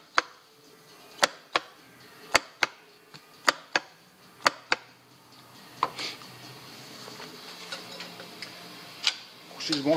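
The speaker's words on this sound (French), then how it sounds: "On entend bien le relais qui se met en route." Sharp clicks from the relay of a foot-controlled power outlet switching on, a quick irregular series of loud ticks in the first five seconds, then faint rustling and a few softer clicks.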